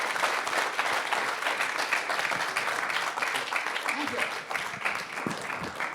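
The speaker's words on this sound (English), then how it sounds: "Could we have a round of applause, please?" Sustained audience applause at a Phil Collins morning event, many hands clapping steadily and filling the room at close range throughout, with a few faint voices mixed in.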